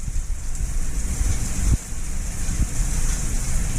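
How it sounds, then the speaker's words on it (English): A hotel room shower runs steadily with a constant hiss of spraying water, loud and close, with a brief shift in the flow partway through; no one speaks. "I can actually demonstrate the shower without soaking myself."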